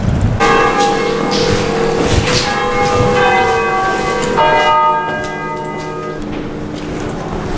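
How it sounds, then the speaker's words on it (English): Several Oxford college church bells ring together in a loud, overlapping peal, their tones layering and ringing on before thinning toward the end. "College bells will ring at different times because colleges used to set their own time."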